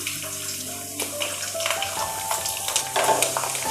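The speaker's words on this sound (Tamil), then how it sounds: "நம்ம எடுத்து வச்சுருக்க பூண்டை வந்து அதில் ஆட் பண்ணிக்கலாம்." Garlic cloves drop into hot sesame oil and fry with a bright, crackling sizzle that swells and stays loud throughout, with a few clinks and stirring sounds.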